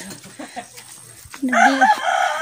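Laying hens kept in small cages cluck softly, then one breaks into a loud, close crow-like squawk that lasts about a second.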